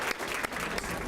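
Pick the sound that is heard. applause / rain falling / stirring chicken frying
applause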